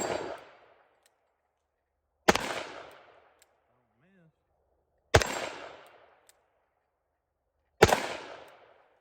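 Smith and Wesson Model 60-14 LadySmith J-frame revolver firing .357 Magnum rounds at steel plates outdoors, four loud, sharp shots spaced a few seconds apart, each with a booming blast and a quickly fading echo.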